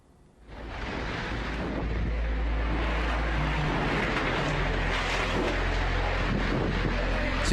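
Strong wind roaring with heavy rain during a storm in Jakarta, a dense, loud, continuous rush that swells in after a quiet half second and stays steady throughout.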